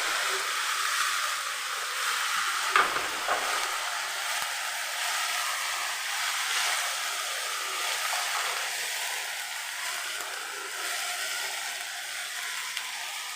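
Crab pieces sizzle and fry steadily in a pan with onion, green chili and salt for a crab roast, a continuous close hiss with a brief clatter as they go in, no voices.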